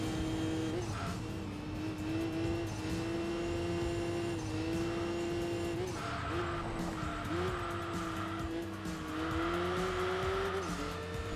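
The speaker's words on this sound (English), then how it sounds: "this is a Nürburgring edition of the R34 Skyline, and the premium version of the Nürburgring edition, the V-Spec" A Nissan R34 Skyline V-Spec Nürburgring edition races in Enthusia Professional Racing, its engine droning steadily with pitch rising and dipping through gear changes, tire squeal and skidding mixed in, loud and continuous with no talking.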